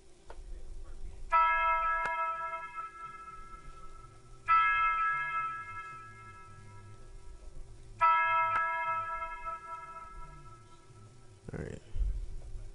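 Synth bell stabs in an FL Studio mix, three sustained harmonic chimes repeating about every three and a half seconds over a low bass bed, ringing clearly with a short decay and a brief noisy hit near the end.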